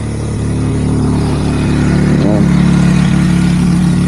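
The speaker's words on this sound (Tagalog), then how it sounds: "May motor mga tol" A motorcycle engine passing on a foggy mountain road, a steady mid-pitched drone that swells slightly as it goes by, with rumbling background noise and no clear talking.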